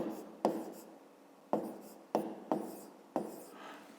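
Numbers of a fifth-grade arithmetic problem being written on a board, five sharp marker or chalk strokes at uneven intervals, each starting with a hard tap and trailing off into a scratchy rub, nearby and clear.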